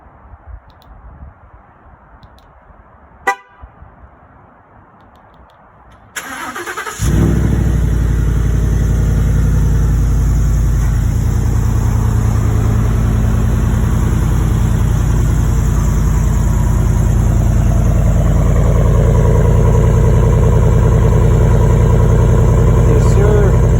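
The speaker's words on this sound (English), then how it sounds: "gonna do a remote start so you guys can hear the exhaust on Legend" A Coyote V8 Ford F-150 with a muffler-delete exhaust fires up by remote start after a few quiet seconds, then settles into a loud, steady, deep rumble that holds close and unbroken to the end.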